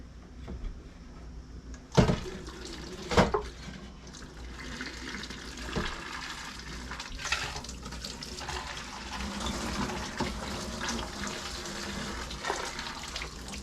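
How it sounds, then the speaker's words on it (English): Running water at a kitchen sink while dishes are washed, a steady splashing rush with a couple of sharper knocks and clatters of dishware near the start. "Now we're going to go wash the dishes, get the kitchen cleaned up."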